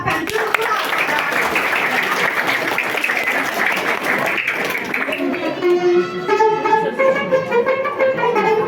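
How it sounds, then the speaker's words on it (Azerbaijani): Audience clapping for Zabitə's performance at a school Novruz holiday event in Böyük Xocavar, Masallı, steady crowd applause for several seconds that gives way to music with voices in the room. "Alqışlayın zabitəni."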